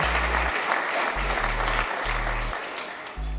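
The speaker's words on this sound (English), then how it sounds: "Please, let's give a round of applause for our international partners." A room gives a round of applause at a speech event, with dense, sustained clapping filling the space while a low repeating hum pulses underneath.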